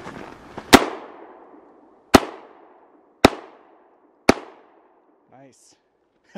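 Four sharp, loud shots from a 9mm handgun, spaced about a second apart with short ringing decays, followed by a faint vocal sound at the end.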